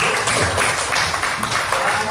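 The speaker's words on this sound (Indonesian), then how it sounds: "tepuk tangan untuk Gunawan dulu" A class of students in an Islamic religious education lesson gives a short burst of applause for a classmate, a close, busy wash of clapping hands filling the room.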